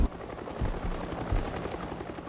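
Rapid automatic gunfire from the online shooter game Shatterline, a dense burst of overlapping shots with heavy low thumps, continuous and loud across the whole stretch without voices.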